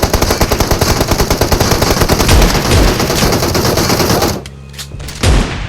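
Automatic gunfire in the battle-royale game PUBG rattles in a dense, unbroken stream of rapid shots for about four seconds, loud and close, then cuts off to a quieter background with a few faint sounds.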